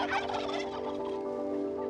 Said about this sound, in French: Le dinde, ça te répond.